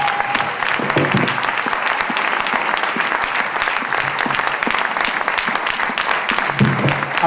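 A church congregation claps and cheers for the Lord, dense continuous applause filling the room with sharp rapid hand claps, a few shouts rising through it, loud and close throughout.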